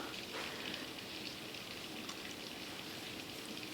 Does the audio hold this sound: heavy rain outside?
yes